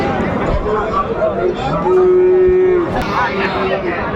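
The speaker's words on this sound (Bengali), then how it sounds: "চলো একটু দেখি গরুগুলো" Friesian and crossbred bull calves low at a cattle market in Dinajpur. One long, close, loud moo rises above a constant murmur of people talking and crowd noise.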